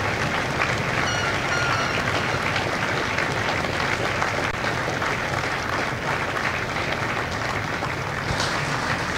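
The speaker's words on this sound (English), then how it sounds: "a round of applause for their dedicated service to Corps and country" Crowd applause at a Marine Corps recruit graduation ceremony at MCRD San Diego: a large outdoor audience clapping in a sustained, even wash, with faint cheers now and then.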